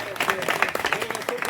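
Scattered clapping from a village gathering at a temple donation announcement, a modest number of hands beating unevenly at moderate volume with voices talking over it.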